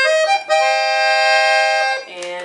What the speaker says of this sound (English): And then this right here is your clarinet reed.